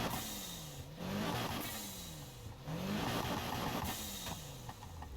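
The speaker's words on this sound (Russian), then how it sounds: "Смотри, как у тебя работает твой новый выхлоп." Car engine in Need for Speed Heat revving through a newly fitted aftermarket exhaust in a garage, rising and falling in three loud, sustained sweeps with a deep growl, no talk over it.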